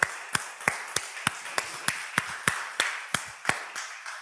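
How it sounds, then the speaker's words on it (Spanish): Church congregation clapping in slow unison: a steady train of about a dozen crisp, evenly spaced claps, fairly quiet, with no talking. "Denle un aplauso a Dios"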